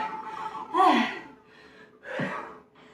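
Heavy breathing and gasps from someone catching their breath after a full-body HIIT workout, a few loud breathy bursts spaced over a few seconds with quieter breaths between.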